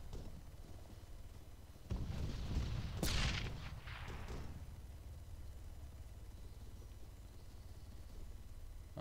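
A grenade blast in the Arma 3 military video game, a sudden deep boom with a sharp crack and rumbling debris over constant background game noise, somewhat distant.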